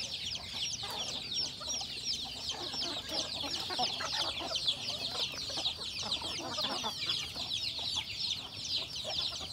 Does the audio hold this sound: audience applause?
no